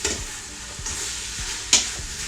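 Pork sizzles and spits in a frying pan while being stirred, with a steady bright hiss and a few louder crackles and scrapes as the meat is moved around.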